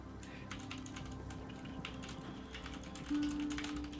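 Computer keyboards are typed on in a rapid, faint, continuous clatter of key clicks, with a soft steady tone near the end.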